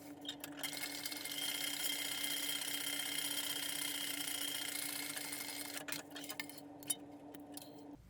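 A sewing machine runs steadily for about five seconds, top stitching along the upper edge of a fabric messenger bag with its lining rolled back, then stops and leaves a few faint handling clicks.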